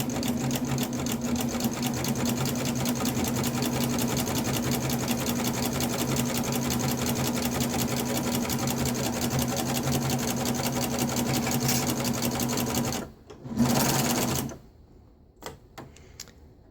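A Baby Lock Ovation serger runs steadily with a knit binder attachment, stitching fabric in a fast, continuous mechanical whir for about thirteen seconds before stopping, with a short burst and a few faint clicks afterward.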